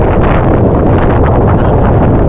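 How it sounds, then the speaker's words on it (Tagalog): Strong wind buffets a small boat at sea amid big waves, a loud continuous roar and rumble of gusts battering the microphone with no break and no speech. "malakas ang alon doon sa alpas."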